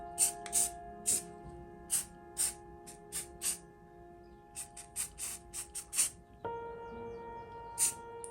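Short bursts of satin aqua spray paint hiss onto a tumbler during a hydro-dip build, about a dozen quick sprays in an irregular rhythm, close and fairly quiet, over a steady low hum.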